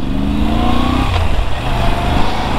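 A Moto Guzzi V7 Stone motorcycle engine revs hard and loud close by, rising in pitch and then roaring steadily with a rough, throaty tone.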